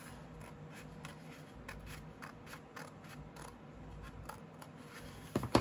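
Scissors cut through patterned designer series paper for a handmade box, a series of quiet, crisp snips at a steady rhythm, close and faint, with a louder rustle of handling paper at the end.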